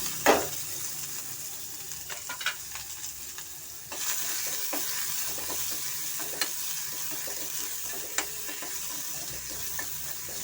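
Chopped onion, capsicum, garlic and ginger going into a hot pan for cabbage manchurian, with a soft steady sizzle and scattered faint clicks and scrapes of stirring, quiet and without talk.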